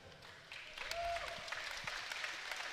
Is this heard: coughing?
no